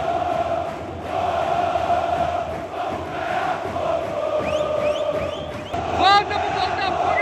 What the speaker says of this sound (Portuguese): Volta pro Botafogo e a torcida tá enlouquecendo aqui